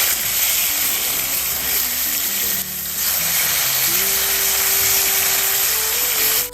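Spices with ground coriander and cumin sizzle steadily in a hot pan, a continuous close frying hiss with light stirring scrapes and a faint tonal hum beneath.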